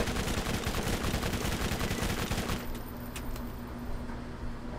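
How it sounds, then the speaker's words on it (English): Rapid, dense burst of submachine gun fire in Borderlands, loud and continuous for about two and a half seconds before cutting off, leaving a few sharp shell-like clicks and a fading echo. "Submachine gun. Not a bad gun"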